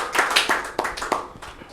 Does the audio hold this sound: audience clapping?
yes